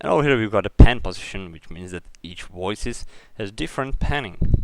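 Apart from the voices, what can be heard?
No everyday noise stands out behind the speech.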